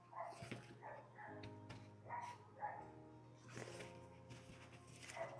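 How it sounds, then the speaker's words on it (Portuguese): A dog barks and yips in quick irregular bursts, faint and somewhat distant, over a low steady hum. "tem um cachorro latindo"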